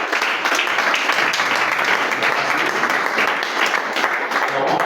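A church congregation applauds to welcome deaconess Alicia, with loud, dense, sustained clapping from many hands and some voices mixed in.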